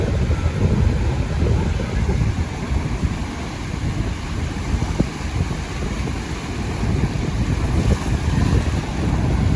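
Sea waves at Inani beach roll in as a continuous low, rumbling wash of surf, heavy with wind buffeting the microphone and with no clear breaks between the swells.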